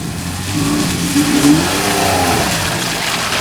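Rear-wheel drive Porsche accelerating on a slippery test pad, engine revving steadily and loudly up close with a rising mid-pitched roar that holds throughout, no voices.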